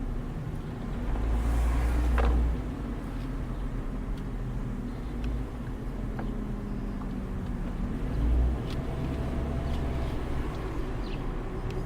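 A car rolling through an old neighborhood, heard from inside: steady low engine and road rumble with a couple of swells of louder revving, continuous throughout and without voices.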